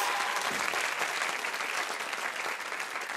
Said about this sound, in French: je vous demande d'applaudir très fort Chris